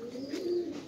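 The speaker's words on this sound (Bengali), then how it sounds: "বুট ঠোঁটের সিলভার কবুতর এটা হচ্ছে" A silver boot-beaked pigeon gives a single short, soft coo, close by and alone, with no talk over it.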